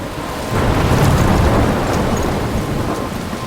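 Storm in the video game Life Is Strange, with heavy rain pouring steadily and deep thunder rumbling loudly throughout, no voices.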